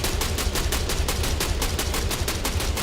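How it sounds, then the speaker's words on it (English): Rapid automatic gunfire in the Star Citizen video game, a continuous burst of evenly spaced shots emptying a full magazine at a ship, loud and unbroken with no talk. "I'm just gonna mag dump on the ship."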